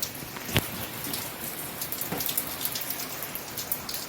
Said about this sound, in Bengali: ঝপঝপিয়ে বৃষ্টি হচ্ছে